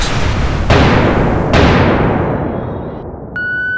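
Fireworks rockets burst over the Golden Gate Bridge in San Francisco on New Year's Eve, two loud booming explosions with long crackling decays, followed by a faint high whistle.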